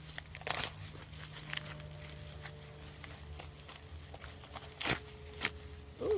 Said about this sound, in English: Let me see if I can rip it open.